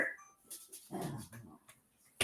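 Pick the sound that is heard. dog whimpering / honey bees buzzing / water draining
dog whimpering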